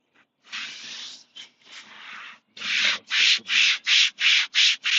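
Scrubbing a greasy vehicle interior by hand produces close, dry rubbing strokes, a few irregular passes first, then a rapid run of even back-and-forth scrubs, with no talk.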